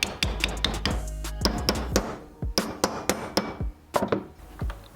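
A steel repair patch for a Ford Escort RS Cosworth restoration is hammered over to form a lip, with a string of sharp metallic blows at uneven intervals, close and loud, some in quick bursts and others spaced apart.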